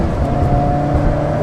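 Alfa Romeo 4C engine note during a downshift, loud and close, with a sustained tonal engine drone and harmonic lines shifting slightly in pitch over a short stretch.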